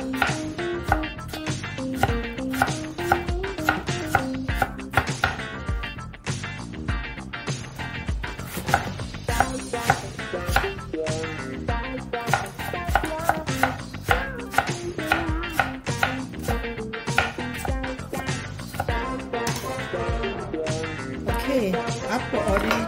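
An apple is chopped into small pieces with a knife on a board, a fast steady run of sharp close cuts continuing throughout, with occasional talk over it.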